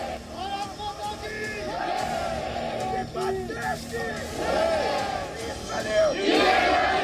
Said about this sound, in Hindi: जब स्पेशल फ्रंटियर फोर्स के कंपनी लीडर नियमा तेंजिन को अंतिम विदाई देने के लिए भारी भीड़ हुई और देशभक्ति के नारों से पूरा लेह गूंज उठा